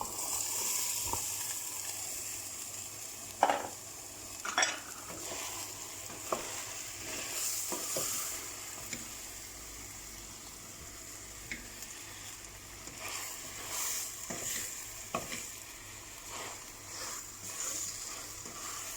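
Boiled white beans for a dried bean stew are stirred in a pot. Soft wet sloshes and spoon scrapes come at irregular intervals over a faint simmering sizzle.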